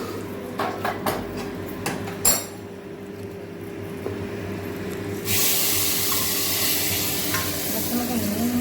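Peanuts are tipped into a large wok and stirred, with scraping and clattering at first, then a steady, broad hiss of frying that continues close by and fairly quiet.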